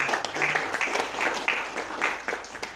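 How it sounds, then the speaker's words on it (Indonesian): An audience claps in a hall in tribute to Indonesian athletes, a brief burst of many hands applauding at moderate loudness, fading toward the end. "Kita berikan tepuk tangan sekali lagi."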